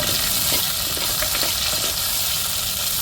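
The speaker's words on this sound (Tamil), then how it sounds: "இப்போ மிளகா தக்காளி சேர்த்துருவோம் நல்லா தக்காளி மிளகாயும் வதங்கட்டும்" Chilli and tomato sauté in a pan for an egg curry, giving a loud, continuous frying sizzle close up. Faint stirring scrapes surface now and then through the hiss.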